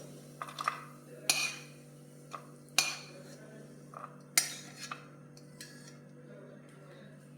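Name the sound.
spatula scraping roasted moong dal from pan onto plate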